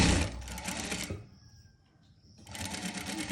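A sewing machine stitches a frock neckline in two loud, steady bursts at close range, separated by a quieter pause of about a second.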